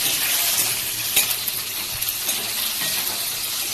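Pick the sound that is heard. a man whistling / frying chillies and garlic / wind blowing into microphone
frying chillies and garlic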